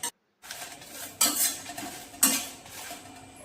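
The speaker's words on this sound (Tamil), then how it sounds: "பதினஞ்சு வரமிளகாய் எடுத்து லேசாக சூடு பண்ணிக்கோங்க." A metal spoon scrapes and clinks in a pan while fifteen dried red chillies are stirred and dry-roasted for idli podi, two or three sharp stirring strokes over a faint background, with no talking.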